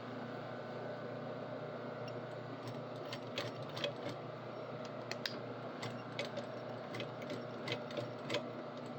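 A sewing machine stitching fabric pockets runs continuously with a steady motor hum and a fast, even ticking of the needle, close and moderately loud.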